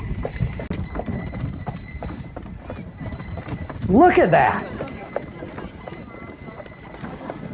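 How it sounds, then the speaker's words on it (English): Horse hooves clip-clop in a steady, fairly quiet rhythm as the animal pulls a sleigh, with a brief louder burst that sounds like a snort or whinny midway and a person speaking briefly. "this is a real live sleigh ride with a horse and an authentic driver"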